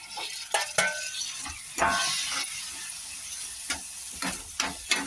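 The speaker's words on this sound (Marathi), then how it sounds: "याच्यासंगच आपण परतून घेऊया टमाटे बी" Tomatoes sauté in a pan with onion, coconut and garlic-ginger paste for a Marathi golyachi amti, a steady soft sizzle broken by repeated sharp scrapes and clinks of a spoon stirring, close and moderately loud.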